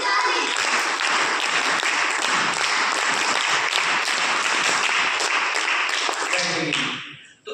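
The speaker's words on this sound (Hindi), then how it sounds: "इनके लिए भी ताली बजा देंगे" An audience at a school parent-teacher meeting claps in a sustained, dense round of applause, loud and even, lasting several seconds before fading out abruptly.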